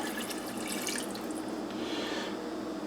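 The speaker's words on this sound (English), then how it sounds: "So we pour in the final amount of water." Water pouring steadily into a pot of chicken pieces, a continuous close splashing trickle with no one talking.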